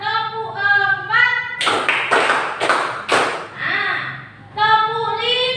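Four crisp hand claps in a steady rhythm during a classroom counting game, framed by a teacher talking before and after.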